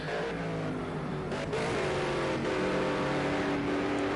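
Race car engines in Project Cars 2 drone steadily and loud, layered tones rising and falling slightly as cars run together, continuous with no talk.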